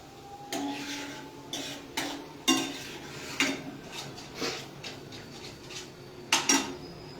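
Fried vegetables go into a pan of thickened cream sauce, heard as a series of soft metallic clinks and scrapes of a spoon against the pan, spaced irregularly at moderate to faint level.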